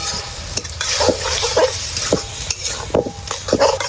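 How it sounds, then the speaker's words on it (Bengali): Rice flour being stirred into a pot of cooked greens, a spoon scraping and sloshing through the thick mixture in repeated close strokes over a low sizzle. "এটা চালের গুঁড়োটা দিয়ে দেবো, দিয়ে ভালো করে ঘুটে নেব"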